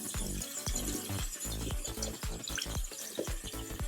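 Makeup brushes rinsed under running water splash and gurgle in uneven bursts, with rattling and clicking handling noises close up and no voices.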